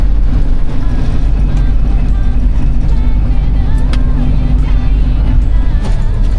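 A vehicle accelerating hard on a road under repair produces a loud, continuous engine and road roar that holds steady throughout, with faint voices underneath.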